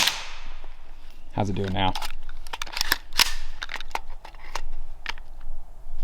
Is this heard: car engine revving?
no